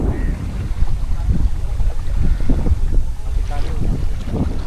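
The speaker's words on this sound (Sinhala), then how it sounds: "ඔන්න බෝට්ටුව යනවා" A boat pulls away from the island of Baththalangunduwa, its low engine rumble mixed with wind buffeting the microphone and water noise, a few distant voices faint underneath.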